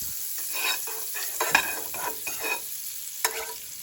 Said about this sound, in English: So with our temperature on high, we'll go ahead and put the butter